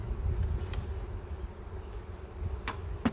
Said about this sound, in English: Oh, I got a bunch of bees down here.